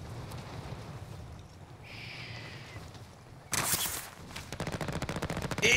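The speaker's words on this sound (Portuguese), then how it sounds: "Tô trocando tiro aí do seu lado." Close automatic gunfire in a Call of Duty Warzone match rattles out in rapid bursts. A loud volley breaks in midway and another quick burst follows, over a low rumbling game background.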